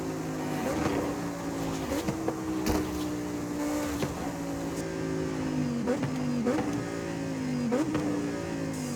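A Lamborghini Huracan STO engine drones steadily with rising and falling revs and brief gear-shift dips, loud and continuous, in the racing game Forza Horizon 5.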